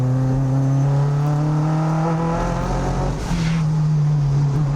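A turbocharged Mazda MX-5 races on track during a time attack event, its engine holding a loud, steady droning note close by, dipping briefly mid-pass before climbing again, with no talk.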